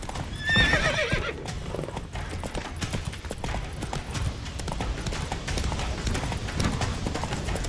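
Roach, Geralt's horse in The Witcher 3, lets out a whinny near the start, then gallops with steady, continuous hoofbeats over a busy game soundscape.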